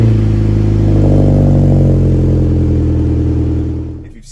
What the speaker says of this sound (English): I think that it sounds pretty damn good.